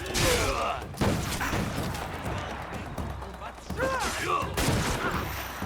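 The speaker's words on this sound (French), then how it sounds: "Ah, c'est qui me tire dessus là?" Gunfire in the video game Assassin's Creed Shadows comes as sharp, loud reports and short volleys at irregular moments, mixed with game sound effects while someone talks over the action.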